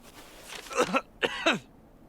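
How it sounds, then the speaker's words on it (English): A character in the game Path of the Midnight Sun gives two short, raspy coughs in quick succession, fairly close and moderately loud, then falls quiet. "Is she coughing?"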